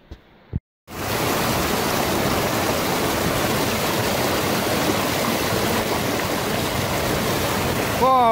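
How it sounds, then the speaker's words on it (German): A cold, glacier-fed mountain stream on the Höllental via ferrata rushes loudly and steadily at close range, a dense continuous roar that starts abruptly after a brief quiet moment. "Das Wasser kommt frisch aus dem Gletscher da oben."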